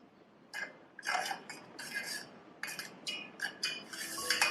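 Spoon stirring soup in a pot, seasoned with salt and pepper, giving a run of light metallic clinks and scrapes in uneven bursts, close and fairly clear with no talk.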